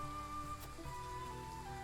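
Steady rain falls in the video game Triangle Strategy, a soft continuous hiss of drops on surfaces beneath sustained musical tones, fairly quiet and even throughout.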